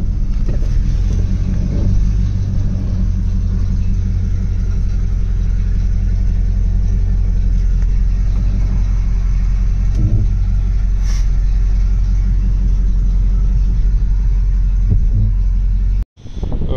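A car engine runs with the throttle held steady to warm up in a garage while a cooling problem is being worked on. It gives a loud, constant rumbling drone that cuts out briefly near the end.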